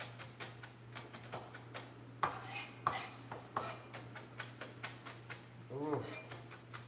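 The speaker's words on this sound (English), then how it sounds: "So this is allspice that I am chopping fine." A kitchen knife chops allspice finely on a cutting board, with rapid, regular taps and clicks close by, a few louder knocks, and a steady low hum behind them.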